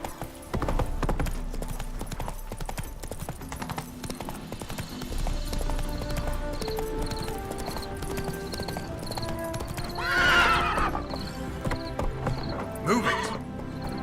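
Roach the horse in The Witcher 3 whinnies loudly and trots with steady clip-clop hoofbeats, set against game music and background sound, with a rider's voice speaking now and then.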